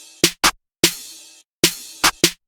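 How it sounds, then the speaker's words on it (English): A sparse electronic verse beat in a jerk style, built from open hi-hat hits over booming low kicks, with short bursts separated by gaps of silence, loud and close. "on the verses there's no hi-hat, only the open hat, and the pattern sounds like this"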